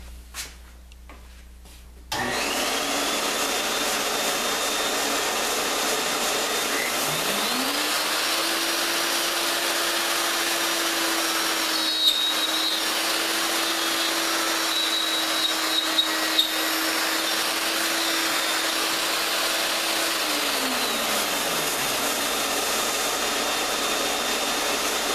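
A plunge router plunge-drills holes in aluminum extrusion, whirring steadily for about twenty seconds as its motor spins up, holds a high whine, then winds down; loud and close, no talking.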